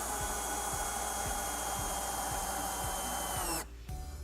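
A power drill sinks a bolt into the rail of an AmeriGlide Rave 2 stair lift, its motor whirring steadily and close with regular clicking as the bolt turns, then cutting off abruptly near the end.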